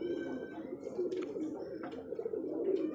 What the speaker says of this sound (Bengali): অনেক সুন্দর কবুতর